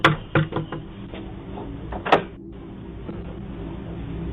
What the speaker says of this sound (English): As the door is being closed on him